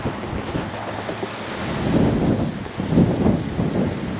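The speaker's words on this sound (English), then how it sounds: "The wind is so crazy." Strong wind gusts roar outdoors at night beside a large casino, a constant blustery rush against the microphone that swells and buffets in uneven surges, with no voices.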